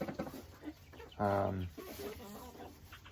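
A chicken gives a short, loud clucking call close by amid quieter rustling and faint background murmur, near a water feeder with nipple drinkers, during morning chores.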